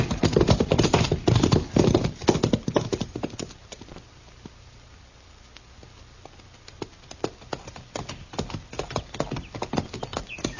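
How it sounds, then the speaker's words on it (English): Hooves clip-clop steadily in a radio-drama effect of horses being ridden in a 1952 Western. The hoofbeats are loud and rhythmic, fade to near quiet midway, then return at a walking pace. "Come on, we'll ride back to Stanley's ranch."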